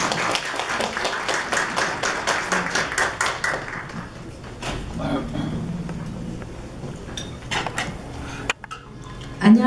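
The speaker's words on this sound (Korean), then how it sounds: "박수로 환영해 주시면 감사합니다." Applause from a gathered crowd at a Korean business fellowship installation ceremony welcomes a singer, with brisk, dense clapping for several seconds that fades to scattered claps amid murmuring.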